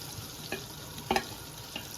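Ginger paste frying in melted butter and oil, a soft, steady sizzle with a few quiet crackles and pops scattered through, no voices.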